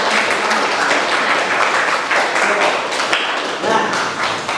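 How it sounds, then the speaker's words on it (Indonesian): Applause from a classroom of vocational high school students for a group discussion presentation, a dense continuous patter of many hands clapping steadily at close range throughout, with no talk over it. "Oke, kita kasih tepuk tangan dulu untuk."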